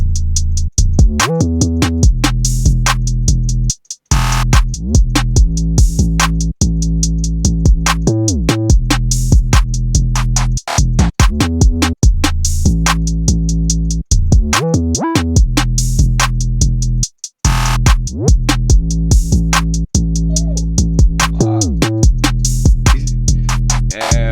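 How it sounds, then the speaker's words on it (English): Trap-style drums and 808 bass from a beat made in FL Studio: punchy kicks, crisp rapid hi-hats and booming sliding 808 notes in a loud looping groove, with brief dropouts, no talk. "The drums alone and the 808."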